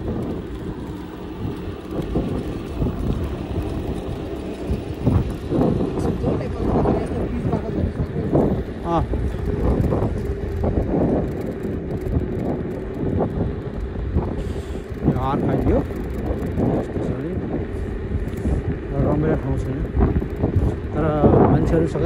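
Cold wind blows across farmland in the South Korean countryside, a steady, rough roar buffeting the microphone at close range throughout, with gusts surging and easing.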